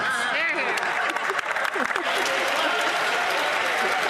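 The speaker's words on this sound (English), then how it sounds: "he's concerned that we're clapping for him." Members of parliament applaud in the Canadian House of Commons during Question Period: dense, sustained clapping fills the chamber throughout, with voices mixed in.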